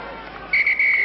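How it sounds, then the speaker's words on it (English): A referee's shrill final whistle at a rugby match between Connacht and Samoa in Galway, sounded in a few quick bursts then a long blast over crowd noise. "there is the final whistle"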